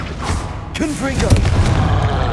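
Casting the Confringo spell in the video game Hogwarts Legacy: a voice shouts the incantation, followed by a deep, rumbling blast that lingers under the game's ambient noise.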